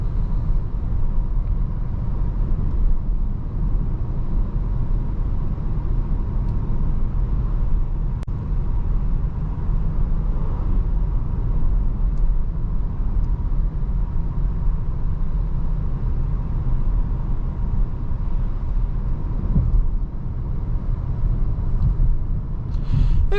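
The cabin of a 2025 Volvo V60 Cross Country on the road fills with a constant low rumble of tyres and engine, steady and unbroken throughout, with no voices.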